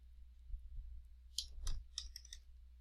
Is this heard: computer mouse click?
yes